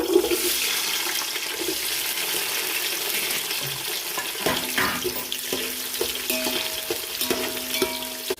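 Onions frying in a pan of hot oil with whole spices for biryani, a steady loud sizzle throughout with a few clinks and stirring sounds from a utensil near the end.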